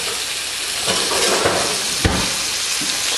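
Scallops sear in a hot pan with butter, giving a dense, steady sizzling hiss up close with a few light knocks of a pan or utensil.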